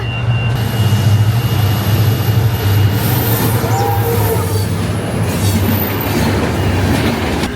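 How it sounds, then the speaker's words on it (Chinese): A train rumbles loudly past at close range, about a metre away, in Dhaka, Bangladesh, steady and continuous, with rattling wheels and a faint squeal. "火车要来啦！"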